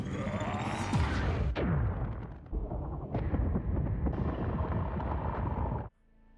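Huge explosion destroys a giant portal in a Transformers film scene: loud, continuous roaring blasts and rumbling debris with sharp cracks and whooshes, all at full force until a sudden drop near the end.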